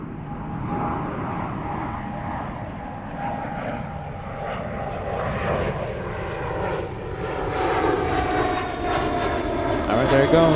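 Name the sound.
airplane departing Zurich airport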